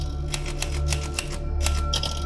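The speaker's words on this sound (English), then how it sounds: "Okay, starts with the typewriter." Rapid, uneven clacking keystrokes of a typewriter in a trailer, loud and close over a low steady hum, about a dozen sharp strikes in quick succession.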